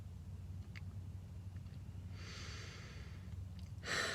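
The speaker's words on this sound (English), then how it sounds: "It's time to take a fucking breath" A slow, deep breath drawn in quietly and then released with an audible sigh near the end, close and soft against a low steady background hum.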